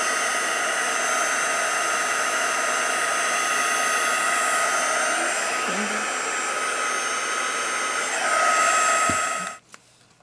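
A heat tool blows steadily as it melts embossing powder on a greeting card, a loud, even whooshing roar that holds for about nine seconds and then cuts off abruptly.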